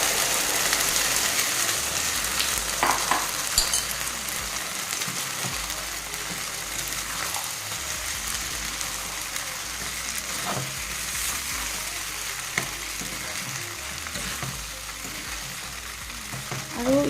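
Chilli chicken fries in a pan with an added sauce liquid, giving a steady, close sizzle for the whole stretch. Intermittent scraping stirs sound over it, and no one talks.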